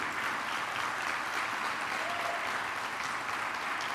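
A church congregation clapping at length during a sermon on the Holy Spirit, a thick, steady roll of many hands at even volume, heard from a little distance with no break.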